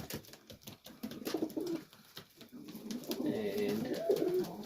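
Pigeons cooing in a loft at night, several soft throaty coos rising and falling close by over a quiet room, with a faint voice in the background.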